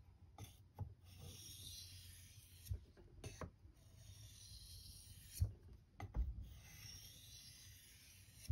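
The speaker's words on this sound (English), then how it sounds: "we just want to do very, very light pressure into the edge only burr reduction strokes" A knife edge is drawn in soft, quiet rasping strokes across a King Neo 800 whetstone with very light pressure, each stroke separated by brief pauses and small taps.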